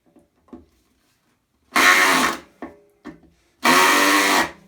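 A power drill drives a screw into wood while a shelf is being built, in two loud whirring bursts of about a second each, separated by a few soft knocks and clicks.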